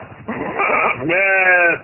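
Goats bleat inside a small demonstration goat pen on a farm, a close, loud, wavering cry rising over a brief rustle, with no talking.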